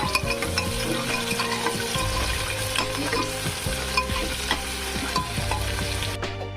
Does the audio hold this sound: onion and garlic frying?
yes